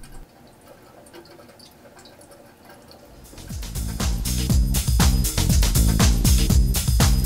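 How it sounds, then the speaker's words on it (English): A slowly running toilet fill valve in an open tank with the lid removed. After about three quiet seconds, water rushes in with a steady hiss and bursts of splashing, gurgling flow. "hear the hissing sound of a slowly running fill valve"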